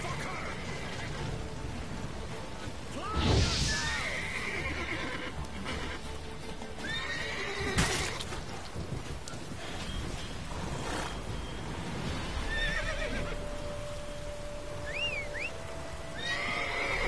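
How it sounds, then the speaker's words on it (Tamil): A horse in the video game Witcher 3 gives loud whinnies early on and again midway, amid steady hoof clip-clops and a patter of rain, with the game ambience running throughout. "இது நம்ம குதிரையே இல்லைங்க."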